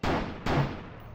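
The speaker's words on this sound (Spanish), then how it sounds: "Le disparo al barril." Two sharp gunshots in the video game Dead Lab, fired at a barrel, each a loud abrupt crack with a short decaying tail, spaced about half a second apart.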